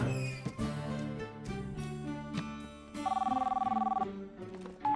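A cell phone ringing in the Horseland horse cartoon, a steady electronic trill lasting about a second over background music, with a short beep afterward.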